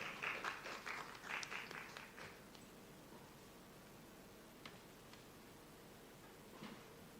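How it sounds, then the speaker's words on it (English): Brief applause from a small audience in a tent session at an annual conference, welcoming a speaker before a paper presentation: a few seconds of faint, distant clapping that fades into quiet room noise with isolated claps. "Can we give Hannah a round of applause?"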